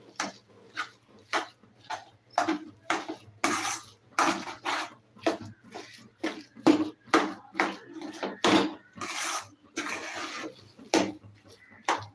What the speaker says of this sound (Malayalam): എന്നിട്ട് നമുക്ക് നന്നായിട്ട് ഇളക്കി കൊടുക്കാം